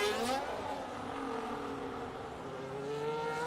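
Race cars in F1 25 drive down the pit lane under safety car conditions at Abu Dhabi, a steady engine drone with shifting harmonic tones, no talk over it.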